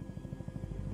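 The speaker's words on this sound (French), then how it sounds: "il y a un hélicoptère qui se pointe" A helicopter approaches in a scene from the TV series The Walking Dead: The Ones Who Live, its rotor thumping in a fast, steady beat that grows slightly louder and fuller.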